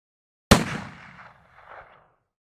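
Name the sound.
rifle shot fired at the range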